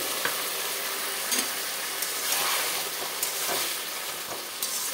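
Malabar spinach stir-frying with a hilsa fish head and spices in a pan, a loud continuous sizzle with repeated scraping stirs of the spatula, close up and without talk.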